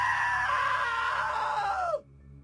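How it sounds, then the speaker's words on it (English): A loud, sustained high-pitched scream in the video game What Remains of Edith Finch, wavering and then sliding downward before cutting off abruptly into near silence. "Now that was a great scream."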